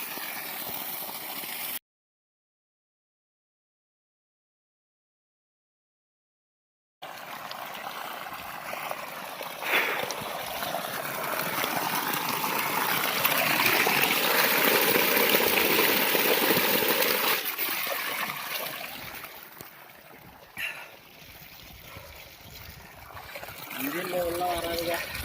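Steady rushing flow of water gushes from the outlet of a 3 hp solar-powered pump through most of the stretch, with people talking over it and a brief dropout near the start.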